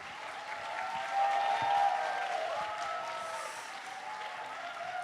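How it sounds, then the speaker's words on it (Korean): A church congregation of young adults at a prayer service applauds as the pastor comes forward, a soft, steady wash of clapping with a brief swell, heard from some distance in a large hall. "박수로 맞이하겠습니다"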